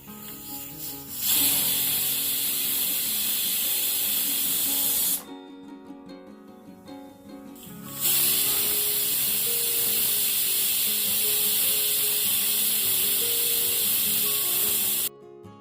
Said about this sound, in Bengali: প্রেশার কুকারে দুটো সিটি দিয়ে ডালটাকে আমি হাফ সেদ্ধ করে নেব